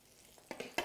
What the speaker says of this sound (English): You can hear them sizzling already.